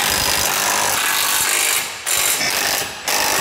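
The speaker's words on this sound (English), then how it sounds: "And then we're just going around tightening everything up." A ratchet tightens nuts on the steering of a Ford SVT Lightning pickup, a loud, close, rapid clicking that runs nearly continuously with two brief pauses.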